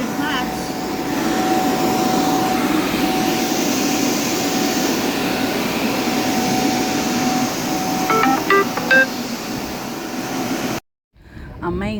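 Two carpet blowers run continuously, drying freshly cleaned carpet, with a loud, steady whooshing roar and a faint hum. A few short knocks come near the end before the sound cuts out briefly.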